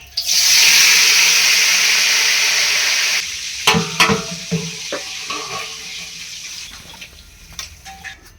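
A loud, steady sizzle of ginger-garlic paste hitting hot oil that gradually dies down, followed by intermittent clinks and scraping of stirring in the pan, while cooking mutton biryani.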